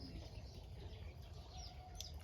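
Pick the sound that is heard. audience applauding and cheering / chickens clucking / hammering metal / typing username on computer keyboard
chickens clucking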